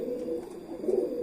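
Breeding pigeons coo in a loft, a steady run of low, throaty calls rising and falling close by, with no voices over them.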